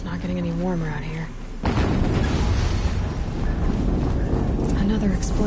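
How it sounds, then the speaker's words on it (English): An explosion in the snowy setting of the video game Horizon Zero Dawn. A loud, broad boom breaks in after a stretch of talk and then rolls on as a sustained heavy rumble that stays loud to the end. "Another explosion."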